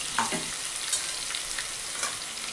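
Ground spice paste going into chopped pumpkin frying with asafoetida, a continuous close sizzle broken by several brief spoon scrapes and taps, nobody speaking.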